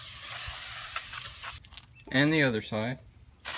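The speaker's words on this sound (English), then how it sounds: "we want to spray down the rotor with some sort of brake cleaner to get all this oil" Brake cleaner sprayed onto the brake rotor of a 1997 Dodge Ram 1500, a loud, steady close-up hiss for about a second and a half, then a short burst again at the end, with someone speaking in between.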